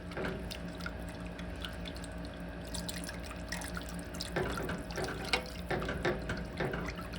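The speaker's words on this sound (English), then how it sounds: "Start slowly adding 2 cups of milk" Milk pours slowly into a pan for stovetop mac and cheese, making a soft, quiet trickle with scattered drips and splashes. The sound is gentle and close, with no talking.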